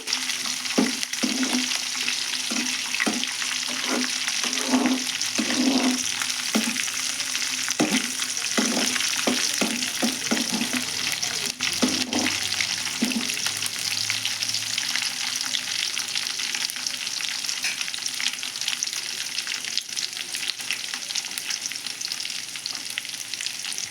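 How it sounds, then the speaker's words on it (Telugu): Chopped onion pieces fry in a pan as the base for a bitter gourd curry, giving a loud, steady sizzle throughout, with rhythmic stirring scrapes through the first half and no talk. "నేను ఉల్లిగడ్డ ముక్కలు వేసుకున్నాను ఇవి కూడా బాగా ఫ్రై చేసుకున్నాను"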